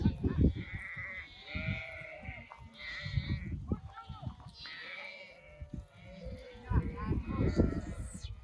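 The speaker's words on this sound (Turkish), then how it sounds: "Akkaraman cinsi koyun." Akkaraman sheep in a flock bleat repeatedly near and farther off in the countryside, overlapping calls rising and falling, with people talking among them.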